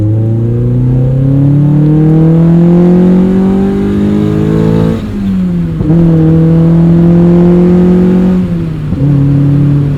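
A modified 2003 Mazda MX-5 Miata engine with an aftermarket header revs up and down repeatedly, loud and close, with rising drone and sharp crackling pops from the exhaust as the revs drop.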